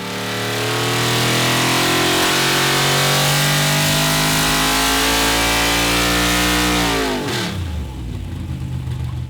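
A 700hp Holden 383 V8 street engine holds a high, crisp rev for several seconds, then drops sharply back toward idle, loud and close, with no voices.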